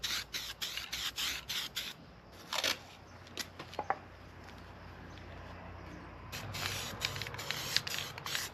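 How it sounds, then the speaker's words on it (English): Short bursts of a spray can or spray gun coating welded buggy parts in a shop, coming in repeated hissing passes at the start and again near the end, with quieter rustling and clicks between. "So we're gonna get some paint thrown on them so they can dry."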